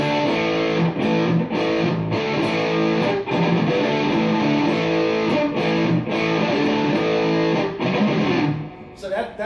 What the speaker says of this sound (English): So let's throw in some distortion. Put a little distortion to it.